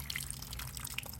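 Water trickling and dripping down through porous potting soil in a seedling pot after heavy watering, a soft, close, continuous wet patter with scattered small drips.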